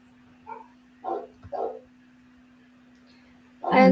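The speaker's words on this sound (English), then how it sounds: "The dog is barking." A dog barks a few times in short, muffled yips at a distance, spaced apart over a quiet room hum, with a louder thump at the end.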